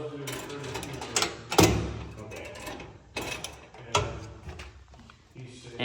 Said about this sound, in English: now pull the parking brake